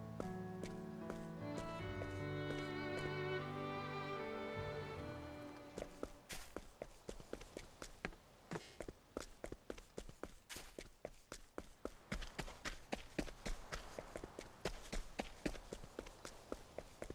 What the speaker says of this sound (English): The sound, the footsteps